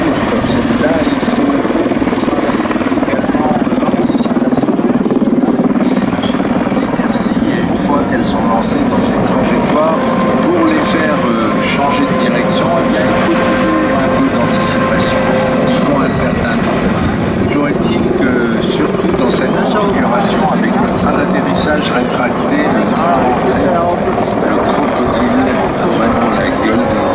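A Czech Air Force Mi-35 Hind heavy helicopter flying a solo display at an air show in Payerne, a loud continuous rotor and turbine roar close by, with a commentator talking over it.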